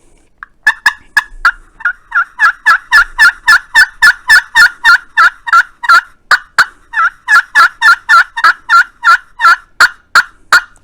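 Slate turkey call with a cherry wood surface played with a two-piece diamond wood striker, producing a long run of loud, rhythmic yelps, dozens of sharp nasal clucks in quick succession with a few brief pauses.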